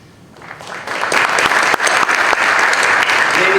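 An audience at a school Board of Education meeting bursts into applause for the 2022 salutatorian, the clapping swelling quickly from quiet to a loud, sustained, dense round that carries to the end.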